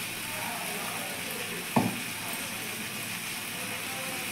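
Masala spices fry in a pan with turmeric and water added, a constant sizzle with one brief scrape of stirring partway through.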